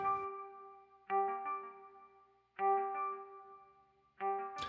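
A ringing guitar G note filtered by a resonator pedal into a metallic, resonant tone, with a short repeating four-note sequence of pitched pulses, G, A sharp, D, A sharp, returning in three bursts that swell and decay.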